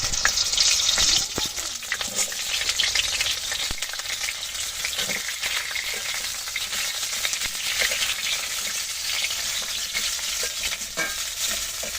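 Pointed gourd (potol) fries in hot oil with salt, turmeric and spices, giving a loud, continuous sizzle and crackle broken by occasional stirring and scraping, close up and without speech.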